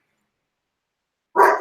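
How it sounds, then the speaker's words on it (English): A dog named Luna gives a single loud, close bark after a long silence, a short burst at the very end. "Sorry about the barking"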